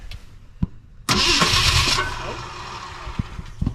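An old Ford F100 pickup engine cranks and catches with a sudden loud roar, surging for about a second before falling back to a rough, uneven idle, preceded by a few faint clunks.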